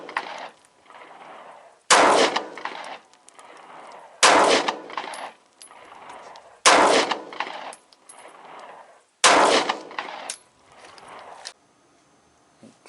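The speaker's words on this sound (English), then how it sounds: "Five shots, M&P shield," Five loud, sharp pistol shots from a Smith & Wesson M&P Shield 9mm firing 147 grain handloads, spaced about two to three seconds apart at an outdoor range, each with a quick ringing echo tail.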